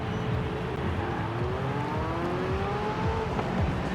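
Engine of a McLaren 765LT exotic supercar in Forza Horizon 5 during a quarter-mile speed trap run, a steady loud drone with rising and shifting tones as it accelerates through gears, no talking.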